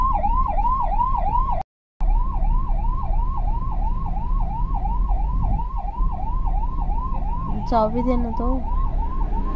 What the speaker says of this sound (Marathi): तर ॲम्ब्युलन्सला रस्ता द्यायला लागला साईडला एकदम सगळ्यांना.